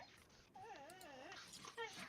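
Dogs whine in high, wavering, rising and falling tones, with a second short whimper at the end, over quiet background.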